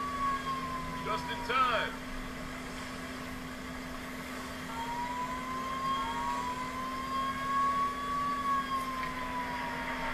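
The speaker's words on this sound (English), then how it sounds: "A fireboat rushes to put out a fire." A fireboat siren rises and falls slowly in long, faint wails over a steady low drone and hum, with a brief burst of speech early on.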